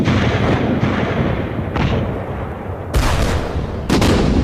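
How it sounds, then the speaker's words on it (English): British artillery bombardment at Neuve-Chapelle in 1915, a continuous heavy rumble of guns with several booming blasts standing out, loud and dense with no voices. "340 guns began the heaviest bombardment the British Army had ever seen"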